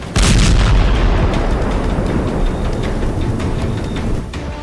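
A Syrian missile depot in Tartus explodes: a sharp, loud blast gives way to a sustained rumbling roar peppered with crackling pops that slowly fades, with no voices.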